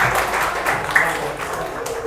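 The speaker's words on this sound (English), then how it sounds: "Okay, applause for your friend," Short classroom applause for a student group after a presentation, a quick scatter of claps from a small group lasting about two seconds.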